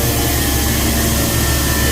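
A 24-foot Rock Super B grain dryer with one burner and one big fan drones in a loud, constant roar, a close, unbroken mechanical rush with no talk.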